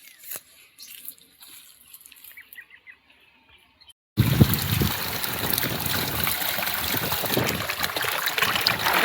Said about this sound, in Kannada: ಇಲ್ಲಿ ನೋಡ್ರಿ ನೀರು ಕುಡ್ಲಿಕ್ಕೆ ನೀರು ತುಂಬ್ಕೊಳ್ತದ.